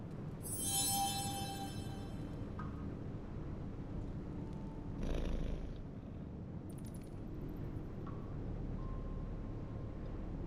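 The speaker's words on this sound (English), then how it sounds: "I hear a kitty." A cat purrs in the Midnight Suns video game, a low continuous rumble running throughout, with a few brief game effects and chimes on top.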